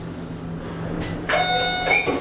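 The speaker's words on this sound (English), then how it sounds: "The door doesn't sound too healthy." Worn parking garage elevator door in Lincoln, Nebraska opening or closing, a sharp high squeal followed by a loud grinding, scraping slide with a steady low hum underneath.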